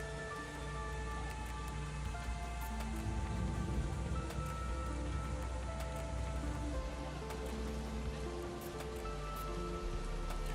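Heavy rain pours steadily during a thunderstorm with hail and flooding in southern Israel, a dense continuous hiss of drops on surfaces, close and unbroken, with no voices.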